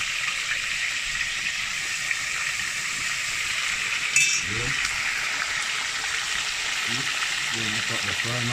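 Chicken fries in a pot with a steady, bright hiss of sizzling oil that holds evenly throughout, broken by a clink near the middle, while someone talks faintly in the background.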